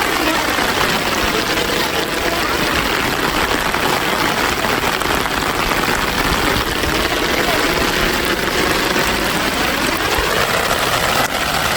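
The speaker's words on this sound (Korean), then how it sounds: "비가 너무 많이 오데" Heavy rain pours down in a sudden downpour, a dense continuous hiss that stays loud and even throughout, with no voices standing out.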